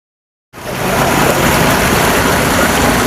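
Water flowing downhill at a rural home in Thailand's Phu Thai area, a steady broadband rush starting abruptly after a half-second of silence and staying loud and close throughout, with no voices.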